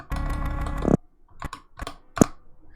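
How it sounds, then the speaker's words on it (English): Computer keyboard arrow keys are clicked, with a burst of dense keystrokes followed by a few separate, sharp clicks spaced apart. "I'm basically going to click my arrow keys in order to find in order to skip each frame"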